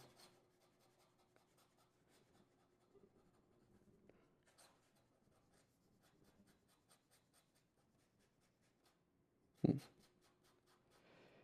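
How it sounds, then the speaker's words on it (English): An OMAS Arco Bronze Paragon fountain pen writing fast on paper, with faint scratchy nib strokes in quick repeated bursts, close and quiet, and one louder knock near the end. "Okay, fast writing."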